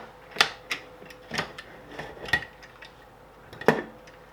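A lid comes off a pot of simmering soybeans for natto, giving a few sharp metallic clinks and clanks spread over several seconds, close by and fairly quiet.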